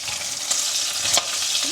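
An egg frying and sticking in a pan, a steady bright sizzle with a few quick scraping stirs, close and loud, no voices over it.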